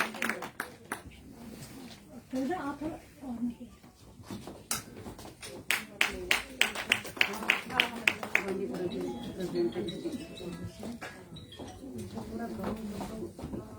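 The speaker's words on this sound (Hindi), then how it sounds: "जोरदार तालियों से इनका स्वागत कीजिए" Scattered clapping from an audience welcoming a woman from Bandipora district at a J&K BJP Mahila Morcha Good Governance Day event at party headquarters, with loud sharp claps building midway under a speaker's voice.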